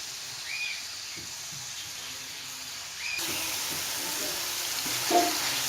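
Onions dropped into hot oil in a kadai, a steady soft hiss of frying that grows brighter and louder partway through, close by with faint clinks.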